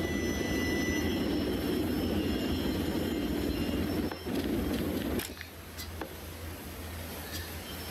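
Aircraft engines drone loudly and steadily on a carrier deck as a torpedo bomber squadron is readied in the game Aircraft Carrier Survival, a dense roar that thins slightly toward the end.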